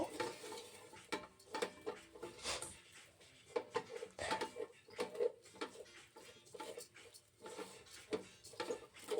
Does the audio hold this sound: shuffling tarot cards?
no